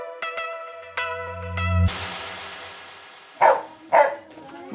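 An Australian shepherd dog named Pirate at a school gives two loud, sharp barks close by, following a stretch of mixed tonal background sound.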